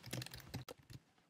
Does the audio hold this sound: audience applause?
no